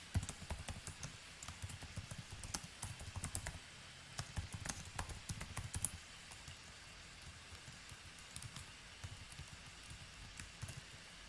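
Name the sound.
typing on a computer keyboard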